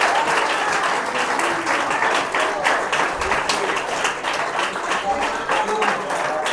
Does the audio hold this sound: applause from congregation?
yes